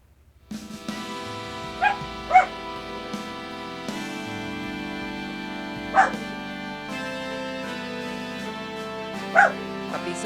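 A puppy gives a few short yips and barks, spaced apart over a steady background hum, with brief whimpery squeaks between.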